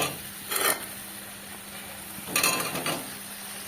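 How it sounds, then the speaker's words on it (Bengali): Young jackfruit frying with goat fat in a wok, heard as two short scraping stirs of a spatula against the pan over a steady low background hiss. "বেশ সুন্দর করে কষিয়ে নিচ্ছি।"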